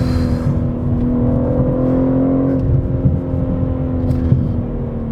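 A BMW M3 Competition sports sedan in Sport Plus mode, its exhaust giving a deep, bassy engine drone from inside the cabin, steady and loud, with a slight rise in revs partway through and no talking.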